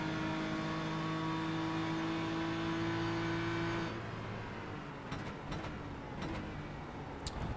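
A GT3 race car at the end of the straight at Road Atlanta lifts off the throttle and brakes, its steady engine drone dropping away into lower rumbling with a few sharp clicks, heard from trackside.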